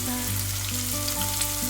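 Onion frying in hot oil after cumin for chole, a steady dense sizzle running close and loud throughout with no talk.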